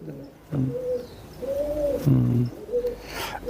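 Domestic pigeon of a crested show breed cooing close by, a few low throaty coos in a short sequence, with faint background noise.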